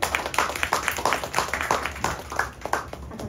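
Light applause of scattered hand claps, at a fairly even pace and close by, with a voice talking faintly underneath.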